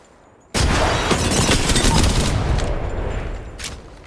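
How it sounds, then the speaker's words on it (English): A grenade blast in the Overwatch video game, played as Wrecking Ball, erupts suddenly as a loud, sustained explosive roar with crackling gunfire-like bursts that slowly fade. "Tossing a grenade. Tossing a grenade."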